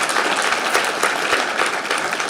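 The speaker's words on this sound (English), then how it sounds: "So let's give them another round of applause." An audience at a social work graduate pinning ceremony gives community partners a round of applause, a brief, loud, dense burst of many people clapping together, continuous with no talking.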